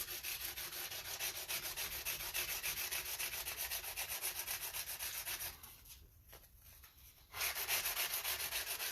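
Abrasive grit sanding the beveled edge of bass guitar frets, a steady rapid back-and-forth rasping rub, close and fairly quiet, with a brief softer pause before the strokes resume.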